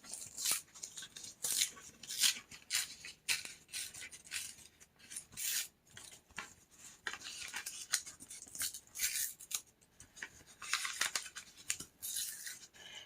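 Paper torn by hand while making a scrappy booklet: a series of crisp, rasping rips in uneven bursts, close and fairly quiet, with short pauses between tears.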